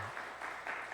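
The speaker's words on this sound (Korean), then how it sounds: "우리 박수로 격려합시다" Congregation applauding in a church, a steady dense wash of clapping filling the short moment without any talk.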